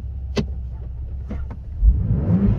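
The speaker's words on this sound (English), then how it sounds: "Rev it up a little." A Ford Bronco Raptor idles with a low rumble, a few light clicks and knocks, then its engine rises into a short rev near the end.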